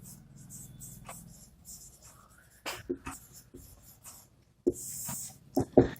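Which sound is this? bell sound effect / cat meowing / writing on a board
writing on a board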